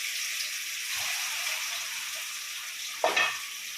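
Ground onion, garlic and ginger masala paste with coriander, chili powder and chicken masala frying and stirred in a pan, a soft steady sizzle with one louder splashy scrape near the end.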